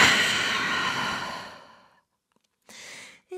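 A long, deep exhale during a downward-facing dog yoga pose, loud and close at first, then fading to silence, followed by a short, softer breath near the end.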